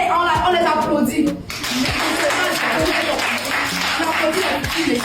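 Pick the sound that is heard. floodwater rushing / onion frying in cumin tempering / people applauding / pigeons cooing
people applauding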